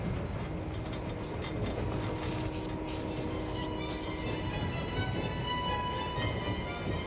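A train rolls steadily along the rails with a continuous low rumble and faint metallic tones, no voices, constant and fairly close.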